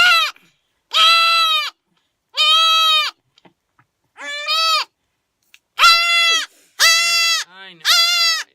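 A baby goat held still for an entropion repair with a penicillin shot lets out about seven loud, close, wavering bleats, each followed by a short silence.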